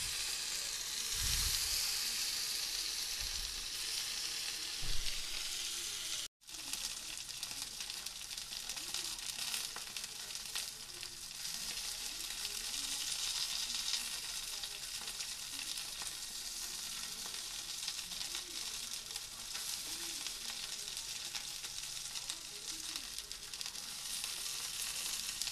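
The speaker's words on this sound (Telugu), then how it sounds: "ఇంకొద్దిగా ఆయిల్ని యాడ్ చేసుకొని మిగిలిన వాటిని కూడా ఇదే విధంగా ఫ్రై చేసుకుందాం." Chicken pieces frying in oil in a pan, with a long, even, moderately quiet sizzle and a couple of low thumps early on, broken by one brief cut before the steady hiss resumes.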